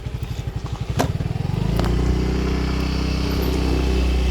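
A keyless Honda Freego motorcycle pulls away with a close, pulsing engine putter that thickens into a steady, loud drone as it rides off, with a sharp clatter near the start and no talk.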